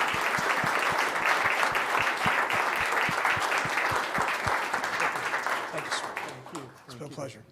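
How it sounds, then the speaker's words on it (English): Applause at a city council meeting in El Cajon, a roomful of clapping hands that is fairly loud at first and gradually fades out, with a voice talking over it. "A big round of applause for our"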